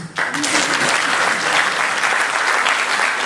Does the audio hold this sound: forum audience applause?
yes